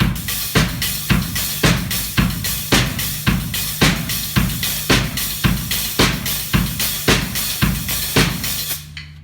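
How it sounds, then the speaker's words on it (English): Drum kit playing a steady rock groove, with quick hi-hat strokes over a quarter-note bass drum and snare hits on the backbeat, loud and close, with no voices until the beat stops near the end. "just playing the backbeat on 2 and 4 on the snare drum"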